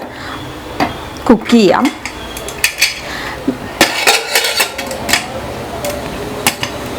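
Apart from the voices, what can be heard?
closing the pressure cooker lid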